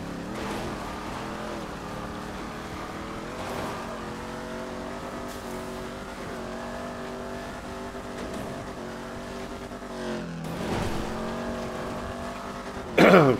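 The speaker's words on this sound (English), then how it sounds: "I'm sure my Dominator engine's misfiring." A Dominator car engine in GTA 5 Online drones steadily with layered harmonic whine, shifting pitch as it revs and eases, a brief louder burst near the end; no talk over it.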